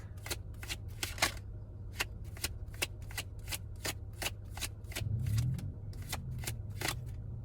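Tarot cards shuffled by hand, a brisk, regular series of sharp papery riffles and snaps close up, steady for several seconds with a brief soft rustle partway through.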